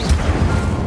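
Casting the Incendio fire spell in Hogwarts Legacy produces one short, loud burst, a whooshing blast over a low rumble that lasts under a second.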